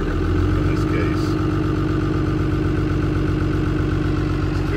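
The diesel engine of a 1981 Airstream 28-foot motorhome idles steadily with a low, even rumble, close and constant, with no talk.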